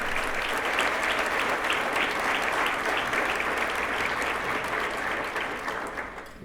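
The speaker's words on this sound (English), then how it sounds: "let's give Dr. Donnie Porter a round of applause" Sustained audience applause fills a teacher of the year banquet hall, dense and steady throughout before tapering slightly at the end, with no voices above it.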